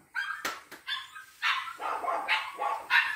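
Dogs bark repeatedly at close range at a neighbour's cat, sharp excited yips and barks overlapping in quick bursts with short gaps between them.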